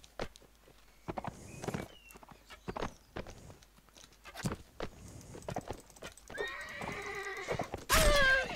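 A horse neighs and whinnies with clip-clopping hooves amid the clash of a cavalry siege battle in the Mount & Blade Warband video game, with a loud whinny near the end.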